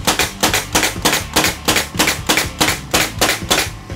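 Pneumatic brad nailer driven by a Rolair JC10 oil-less 2.5-gallon 1HP compressor, firing nails in a steady rapid rhythm of about three sharp snapping shots per second, loud and close, with no talk.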